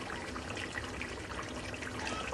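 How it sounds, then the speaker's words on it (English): A pot of mutton chop curry simmering away, giving a steady, dense bubbling and sizzling hiss that stays even and continuous throughout, with no speech. "let's just appreciate the sound of chops."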